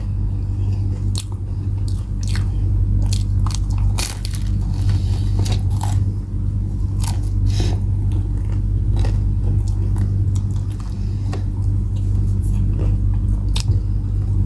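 Crisp crunching bites and chewing of a brown-toasted Kubos snack, eaten with white cheese curry at a mukbang meal. Repeated close crackling crunches sit over a steady low hum.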